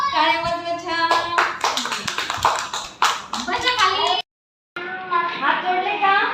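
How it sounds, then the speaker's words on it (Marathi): Children in an anganwadi class clap their hands in quick, uneven bursts close by, mixed with a voice and children's chatter, with a brief silent gap near the end. "टाळ्या वाजवा छान"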